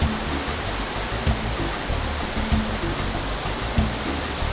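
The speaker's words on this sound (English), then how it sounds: "this is waterfall number 3, and it's also about the closest that I can get without getting soaked" A waterfall roars steadily from very close by, a dense and unbroken rush of falling water with a faint low rumble beneath it and no pauses throughout.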